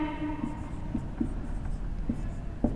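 A pen writes out a two-variable K-map on a board or paper, giving soft scratchy strokes with a few small taps over a low hum. No one speaks.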